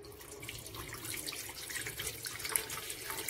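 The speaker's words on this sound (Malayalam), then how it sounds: "ഞാൻ ഇന്ന് ഉണ്ടാക്കാൻ പോകുന്നത് ഈ ഒരു റൈസ് കുക്കറിലാണ്. അതിലേക്ക് നമുക്ക് ആവശ്യമായ വെള്ളം ഒഴിക്കാം." Water poured into a rice cooker pot makes a soft, close, continuous splashing stream, quiet and unbroken for a few seconds with no voices.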